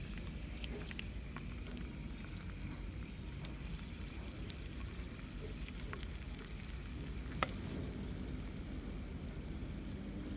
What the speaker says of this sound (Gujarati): સ્લો ફ્લેમ પર જ લસણને સાતળવાનું છે